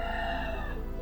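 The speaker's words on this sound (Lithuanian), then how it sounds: "Ir gaidys šalia." Rooster crowing nearby, a single loud sustained crow filling the moment, with no talk.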